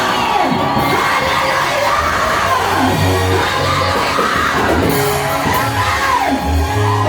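A church congregation cheers and shouts loudly and continuously, with high excited voices and children's yells forming a dense, unbroken crowd roar throughout.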